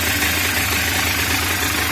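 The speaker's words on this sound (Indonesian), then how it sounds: "Okay, motor dah hidup." A Suzuki V100 motorcycle engine runs just after starting, idling close and loud with a steady, slightly knocking mechanical putter and no voices.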